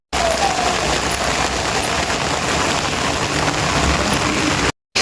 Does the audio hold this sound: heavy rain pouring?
yes